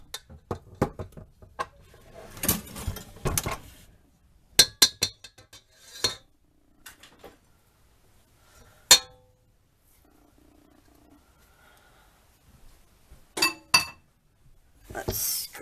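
Metal mixer beaters clink and clatter sharply as they are handled and pulled from a hand mixer while making cinnamon sugar cookies, with bursts of knocks and rattles separated by quiet gaps.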